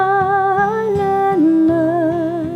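Acoustic guitar fingerpicking the melody of Silent Night, clear plucked notes over a repeating bass pattern, close and moderately loud, played slowly and alone.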